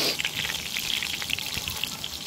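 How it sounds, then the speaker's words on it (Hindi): Food sizzles and crackles steadily in hot oil in a home kitchen, a close, continuous hiss with small pops, heard without talk. "गाईज हे तुम्ही आता फ्राय करता न्हू,"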